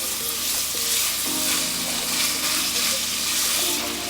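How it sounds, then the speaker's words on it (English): Minced beef fries in hot vegetable oil in a pan, giving an even, dense crackling sizzle close by that holds steady throughout. "we'll heat up some vegetable oil in our pan, and then we'll go in with our minced meat. Fry this until it's golden brown"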